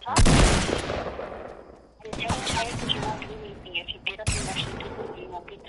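Gunfire in Fortnite, with three loud broadband bursts of shots, each fading into rattling fire, while voices talk over the action.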